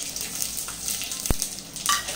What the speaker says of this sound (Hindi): अभी तेल में डालेंगे गरम मसाले